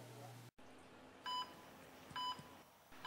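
A telephone rings with electronic tones: a few short, bright beeping bursts separated by quiet gaps over a low background hum.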